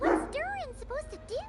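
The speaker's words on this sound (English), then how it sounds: "my dog's barking in the background." A dog barks and yips in the background, giving several short, rising and falling calls mixed with a person's talking.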